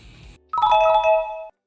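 A trading platform alert sounds once, a bright two-tone electronic chime ringing clearly and loudly for about a second after a short quiet gap, then cutting off to silence.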